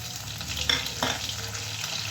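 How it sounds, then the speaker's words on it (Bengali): Prawns frying in a pan with slit green chillies, a steady close sizzle with a couple of brief stirring scrapes, no talking. "চিংড়ি মাছটা ভালো করে ভেজে নেব দিয়ে দিলাম চেরা কাঁচা লঙ্কা"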